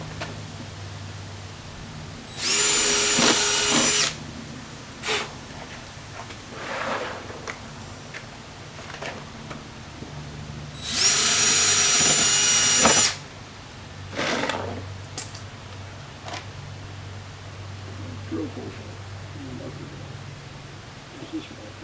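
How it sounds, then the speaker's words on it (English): Two bursts of power drilling, each about two seconds long, spaced apart, with quieter handling and rustling noises in between. "now real quick, we'll just drill all the rest of those holes"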